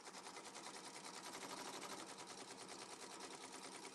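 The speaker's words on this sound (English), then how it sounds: "I push start. It's like the sewing machine is wearing the t-shirt." Embroidery sewing machine stitching a t-shirt, with a fast, even mechanical rattle of needle strokes repeating steadily at close range with no talk.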